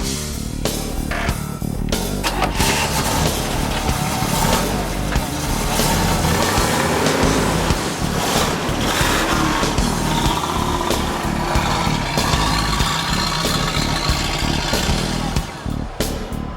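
A Yenko SC Camaro's engine runs throughout a ride at a street car event, giving a loud, rough, continuous roar with bursts of noise and wind.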